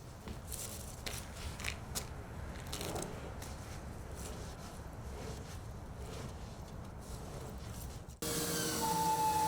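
Long, steady sawing through 2x6 lumber for workbench kits: a continuous rasping, grinding roar at close range, briefly broken just after eight seconds before turning louder and brighter, with no talking.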